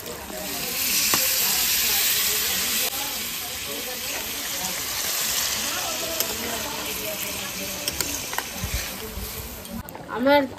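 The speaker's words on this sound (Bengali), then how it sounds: "এবার দিয়ে দেবো জল" Water poured onto frying spice paste for chicken curry sets off a loud hissing sizzle that gradually settles. Close stirring clatter and a voice come in toward the end.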